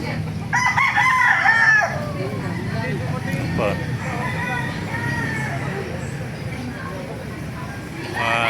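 A Gilmore gamefowl rooster crows loudly and close at the start, with clucking and other fowl in the background and people talking nearby throughout.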